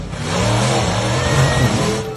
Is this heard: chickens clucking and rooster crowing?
no